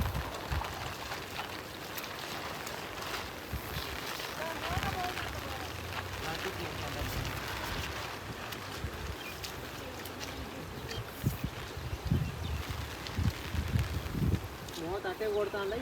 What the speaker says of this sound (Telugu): ఈ వర్షం వస్తుంది గట్టిగా